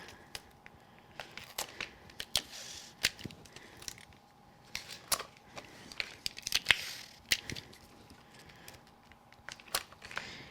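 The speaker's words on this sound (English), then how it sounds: "Put some tape around the edge." Tape being pressed and smoothed around the edge of a handmade interactive candy machine card, with a string of crisp ticks, crackles and short tearing snaps scattered unevenly across the clip, close and fairly quiet.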